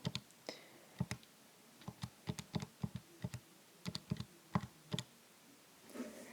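Fingers tapping the keys of a calculator, a run of sharp, close plastic clicks in irregular bursts with short pauses between, alone in a quiet room.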